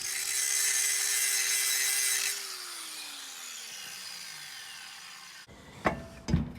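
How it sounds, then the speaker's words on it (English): A grinder works metal for clearance near a wheel bearing on a box van, a loud steady whine that drops in pitch and winds down, followed by a couple of short knocks near the end. "We'll grind a little more, and we'll grind a little extra to create a little clearance"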